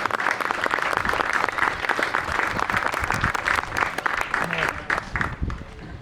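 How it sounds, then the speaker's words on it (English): An audience claps steadily through a community awards ceremony, the dense applause fairly near and full before tapering slightly at the end, with faint voices underneath. "Let's give her a round of applause."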